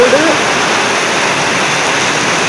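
Heavy monsoon rain pouring down outside a house by a stream, a dense, loud, steady hiss filling the whole clip with no breaks.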